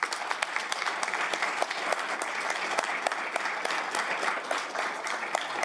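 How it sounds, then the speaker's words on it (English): Audience at a county board of commissioners regular meeting applauds an employee's 20-year service recognition, with dense, steady clapping from a room of people that continues evenly throughout without talking. "Round of applause for Jesus Reyes."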